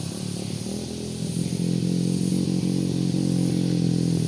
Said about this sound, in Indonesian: Ada motor trail